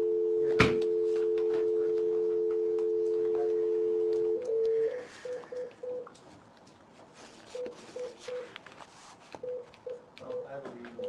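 Telephone keypad tones: a steady dial tone for several seconds, then a series of short, evenly spaced touch-tone beeps as a number is punched in, with a muffled voice and room noise in the background during a public safety working group meeting.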